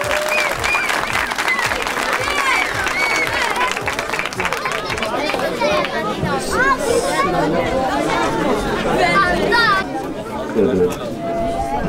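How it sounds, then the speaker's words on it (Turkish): An audience at a children's singing contest in a village theatre claps and cheers steadily throughout, dense applause mixed with crowd chatter and voices nearby, the clapping thinning slightly toward the end. "Yalnız bu çocuklara bir alkış lütfen."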